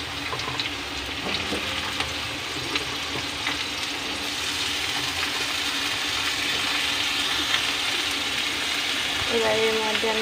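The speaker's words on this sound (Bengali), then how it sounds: "আমি সব একসাথে ভেজে নিচ্ছি" Vegetables, including carrots, fry together in a kadai with a steady sizzle and occasional stirring scrapes, continuous at moderate level.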